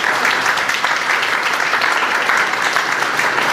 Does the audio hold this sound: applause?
yes